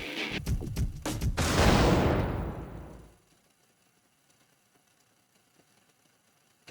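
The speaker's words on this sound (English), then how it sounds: "A nuclear explosion." A nuclear explosion in the Fate/Extra video game: a rapid burst of sharp cracking blasts swelling into a loud roaring rumble that fades out after about three seconds, leaving near silence.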